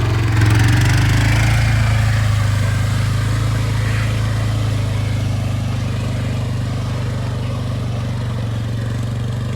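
A Yamaha Timberwolf 250 ATV engine running while driving, a loud, steady, low drone that holds constant and eases slightly in level, close and continuous with no talking.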